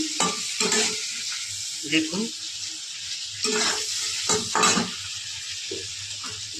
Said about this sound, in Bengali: চিংড়ি মাছটাকে বেশি ফ্রাই করবো না আমি